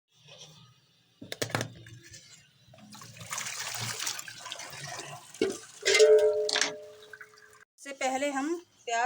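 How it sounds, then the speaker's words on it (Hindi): Boiled spinach is strained as its cooking water drains away in uneven splashing gushes and trickles, broken by gaps, with a person talking in between. "अब हम उतार लेंगे और छान लेंगे पानी में से।"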